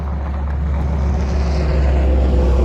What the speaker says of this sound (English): Lots of noisy trucks going by.